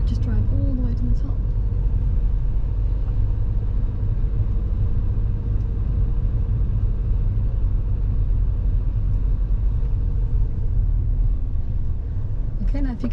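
A car driven forward across a car park during a driving lesson gives a low, steady cabin rumble of engine and road noise heard from inside, with voices speaking over it.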